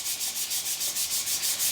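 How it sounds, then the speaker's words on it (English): Hand sanding runs lengthwise along a wood-turned piece, about nine even, rhythmic rasping strokes, close and steady with no talk. "So obviously now you can give it a sand"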